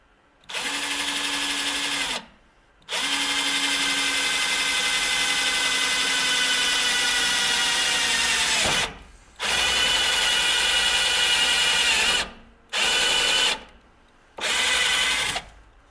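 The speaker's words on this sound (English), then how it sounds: "move up a bit size, drill a new hole" A power drill whines at high speed in several bursts while drilling a hole on a 1937 Buick Roadmaster, one long continuous run followed by short stop-and-start pulses, close and loud with no talking.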